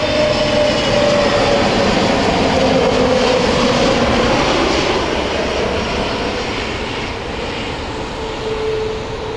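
WestJet airliner engines at Heathrow Airport, a loud, continuous jet roar that holds steady throughout and eases slightly near the end, heard alone.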